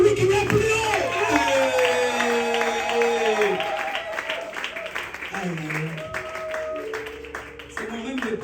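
A church congregation acclaims and cheers, a dense crowd of voices, shouts and applause filling the space loudly and continuously, with singing or chanted voices rising over the din.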